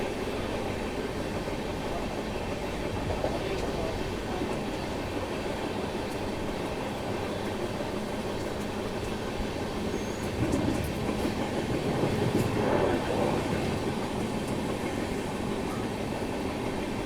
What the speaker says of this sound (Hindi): हमारी ट्रेन अब 458 किलोमीटर तक ऐसे ही दौड़ने वाली है भाई।